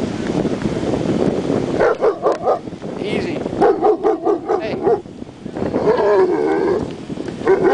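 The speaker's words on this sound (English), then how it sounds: "He's sweet. He just barks." A German shepherd puppy, about eight months old, barks in short repeated bursts close by, mixed with people talking over steady background noise on a walk.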